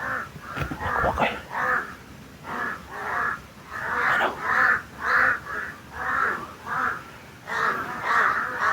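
Crows in a video game caw over and over, a loud flock of harsh calls repeating in a steady rhythm, one after another, with no talk over them.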